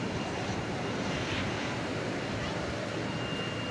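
A UPS Boeing 767 cargo jet, an 11-year-old aircraft at DFW Airport at night, produces a continuous broad roar of jet engines, steady and fairly loud with no breaks, with talking mixed in.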